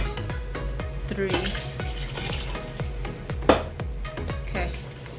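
Water poured from a glass into a large pot of Bengali-style tomato curry, a splashing pour with faint rhythmic clinks and bubbling around it, at moderate volume.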